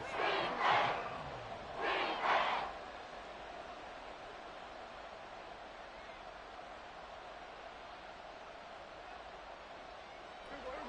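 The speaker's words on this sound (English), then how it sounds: "Here comes a big one as this crowd gets up making some noise." Two loud bursts of a stadium crowd roaring and cheering at a Bears at Texans football game, then a steady distant crowd murmur that continues evenly.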